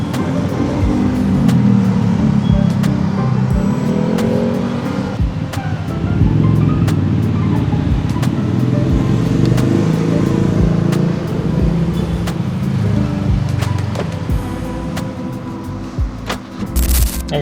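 Road traffic rumbles steadily along EDSA in the Philippines, a dense continuous wash of engines and passing vehicles with occasional sharp knocks, heard from close by.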